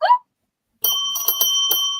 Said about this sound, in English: I still did the bell. I went ding,